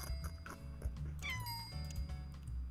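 Cat meows from the Doggie Dash video game, a short rising-and-falling meow sounding clearly over a steady low background hum, with no talking.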